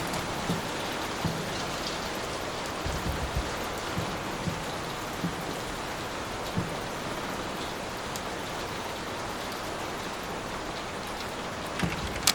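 Heavy rainstorm in the horror game Layers of Fear, a constant dense wash of rain pattering on surfaces with scattered louder drips, steady and enveloping throughout.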